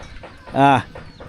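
A chicken in a rural Lao village gives a single short, fairly close cluck, with faint outdoor background noise before and after.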